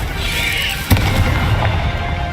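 A Confringo fire spell in Hogwarts Legacy lands as a sudden sharp blast near the one-second mark, followed by a dense, low, rumbling roar of fiery magic that lingers loudly behind the game's background effects.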